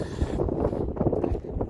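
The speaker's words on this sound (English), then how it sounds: "Very windy out here today." Strong wind buffeting a microphone outdoors on a rural property with a trailer and trees, a continuous loud rumbling roar with gusty fluctuations throughout.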